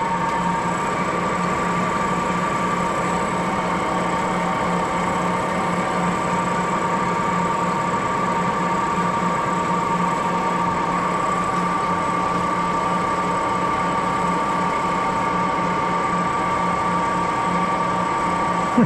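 A Moore jig borer spins a tenths-set boring head at about 1,000 RPM, giving a steady, loud mechanical drone with a constant whine and hum that holds unchanged from start to finish, with no talking.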